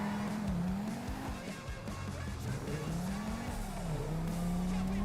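A car in a Spanish roleplay video game drives hard with a droning engine note that rises and falls, tires squealing and skidding through turns, loud and continuous throughout.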